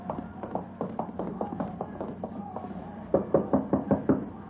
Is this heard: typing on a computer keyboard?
no